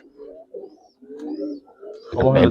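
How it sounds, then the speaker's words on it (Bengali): A pair of Huma pigeons coo softly and close by in short, repeated low phrases, with a louder burst of noise breaking in at the end. "ভাই একজোড়া হুমা কবুতর দেখেন ভাই।"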